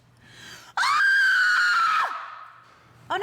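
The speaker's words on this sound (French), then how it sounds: "C'est drôle de crier." During an experiment testing a straw-and-sapphire contraption, a person lets out one long, loud, high scream lasting over a second before it trails off, with a brief breath or sound starting again at the end.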